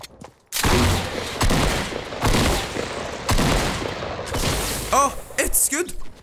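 Gunfire in Fortnite: several loud bursts of shots ring out in quick succession over about five seconds, each sharp and close, with a few faint whistling tones near the end.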